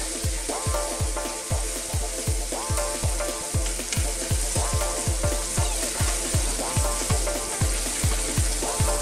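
About 200 ml of cream bubbling on high heat in a pan with chicken and aubergine, a rapid, regular run of low thumping pops and stirring scrapes over a steady hiss, close and loud, no talking.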